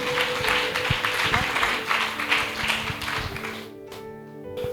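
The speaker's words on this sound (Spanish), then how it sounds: "Dale palmas de alabanza a Jesús" A church congregation claps in praise during a Spanish-language service, a dense, steady round of hand clapping that fills the whole stretch and thins out just at the end.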